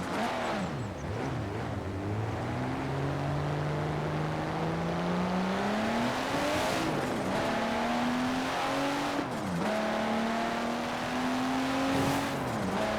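Fully built Nissan Skyline R34 engine revving high in Forza Horizon 4, a steady loud climbing whine with brief dips at gear shifts, heard alone without talk.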